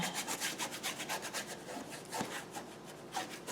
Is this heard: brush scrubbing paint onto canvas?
yes